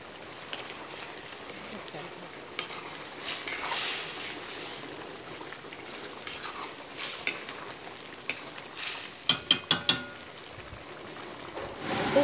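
Spices, including turmeric powder, being stirred in a frying pan on a home stove, with a steady sizzle of frying, a spoon scraping and stirring throughout, and sharp clinks of the utensil against the pan near the end.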